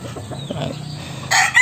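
Several chickens of Peruvian-bloodline gamefowl cluck in short bursts, then a loud rooster crow breaks in near the end, close and clear.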